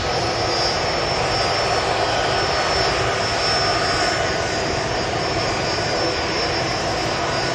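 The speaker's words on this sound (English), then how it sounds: "Turkish Airlines next heading right to Istanbul." Steady, loud jet engine roar from a Turkish Airlines Airbus A330-200 bound for Istanbul at Manchester Airport, a continuous dense rush with a faint high whine and no talking.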